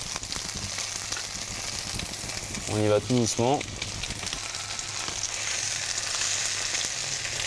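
Red mullet fillets sizzle and crackle in hot oil in a pan, a steady close frying hiss, with someone speaking briefly in French partway through.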